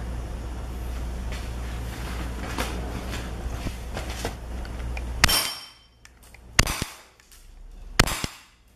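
Steady mechanical background noise, then three sharp shots from a cheap airsoft gun ring out, spaced a second or so apart, each leaving a brief clattering tail.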